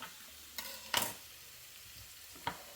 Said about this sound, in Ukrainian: Цибулька підсмажується.